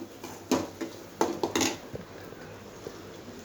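A spoon scrapes and clinks against a pan while coriander powder, chilli powder, pepper and turmeric are sautéed for egg gravy. A few quiet, scattered strokes sound in the first two seconds, followed by a soft low hiss.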